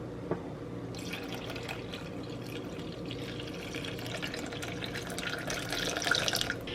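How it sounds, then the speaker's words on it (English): Warm water runs steadily into a mason jar of sourdough starter in a home kitchen, a continuous close splashing trickle that brightens and grows slightly louder toward the end, with no talk. "I'm gonna add 350 grams of warm water."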